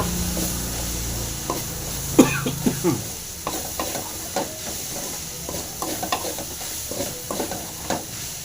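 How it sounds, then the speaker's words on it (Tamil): A spoon stirs grated coconut into sliced bajji chillies frying in a pan, giving close scraping and soft clacks over a steady background sizzle. "தேங்காய் போட்டு நல்லா கலருங்க"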